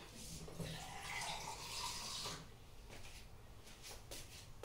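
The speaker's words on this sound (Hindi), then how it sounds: "पानी डाल देते हैं इसमें थोड़ा सा" Water poured in a small amount into a pot of rose petals for homemade rose water: a soft, splashy pour for about two seconds at close range, followed by faint clinks and handling noises.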